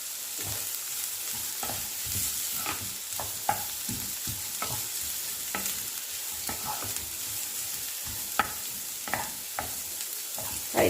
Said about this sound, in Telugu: హైలో పెట్టుకొని బాగా వేయించుకోండి.